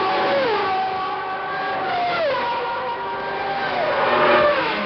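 Ivan Capelli's Formula One race car at the 1989 Mexican Grand Prix enters the pits, its high engine note sliding down in steps as it downshifts and then swelling again, loud and steady without speech.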